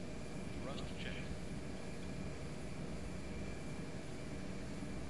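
Embraer E170 jet engines at takeoff thrust in a flight simulator, with a loud, steady, broadband roar that holds unbroken throughout and a brief higher whine near the start.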